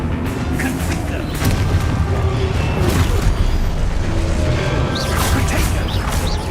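A Confringo fire spell blast in Hogwarts Legacy, a dense sustained booming rumble with crashing, whooshing layers that stays loud throughout.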